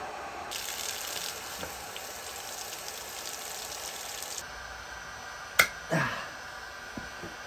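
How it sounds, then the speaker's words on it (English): Water flushes through a Kawasaki motorcycle radiator in a steady hissing gush that stops partway through, followed by a couple of sharp knocks nearby. "In the meantime, I can try and flush out this radiator."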